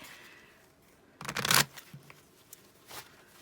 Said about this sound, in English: I just picked up my deck to shuffle